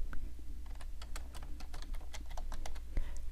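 Rapid keystrokes tap on a computer keyboard, a quick irregular run of light clicks with brief pauses, close and fairly quiet.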